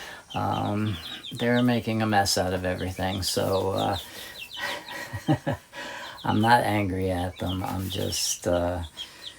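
Faint chick cheeping comes from the background while a person talks in the foreground.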